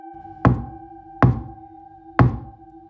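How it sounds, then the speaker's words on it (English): Three slow, deliberate knocks on a door around midnight, evenly spaced and fairly close, each a sharp thud with a short ring-off, over a faint steady hum in an otherwise quiet room. "then I heard it, 3 knocks."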